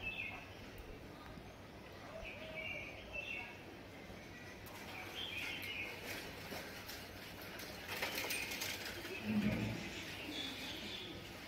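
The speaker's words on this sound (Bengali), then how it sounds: "দেখো পাখির কি সুন্দর আওয়াজ আসছে।" Birds calling and chirping outdoors in the early morning, with soft cooing and scattered tweets spread across the clip against a steady background hush, moderately distant and fairly faint.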